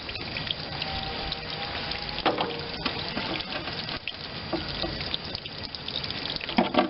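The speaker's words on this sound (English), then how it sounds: "See the water coming out pretty good now." Water running out of a Vermeer BC625A wood chipper, a steady splashing trickle with small drips and knocks nearby, fairly quiet and without talk.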